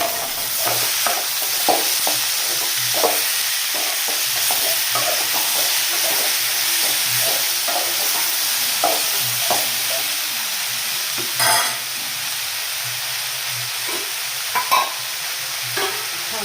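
Onions fry and sizzle in a pan for chole while a spoon stirs and scrapes them in a loose rhythm, close and fairly loud against a steady hiss.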